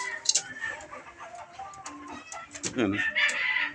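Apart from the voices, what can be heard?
rooster clucking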